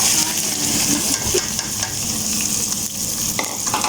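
Finely chopped onions frying in a pan for a dhaba-style bitter gourd and onion dish, a dense, loud sizzle with stirring scrapes running unbroken, close up and without talk.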